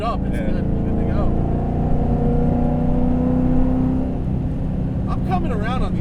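Modified 2002 Camaro SS V8, warmed up and running with a deep steady drone that swells as it accelerates, loud and close, with people talking over it.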